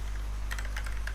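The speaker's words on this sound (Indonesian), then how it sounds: "kalian langsung ketik di URL-nya" Quick burst of keystrokes on a computer keyboard as a URL is typed, several light clicks in an uneven run over a steady low hum, close and alone.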